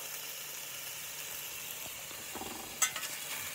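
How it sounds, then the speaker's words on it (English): Jalapeño Black Angus burgers sizzling in a pan, a soft steady frying hiss close by, with a brief louder crackle and clatter near the end. "Listen to that sizzle."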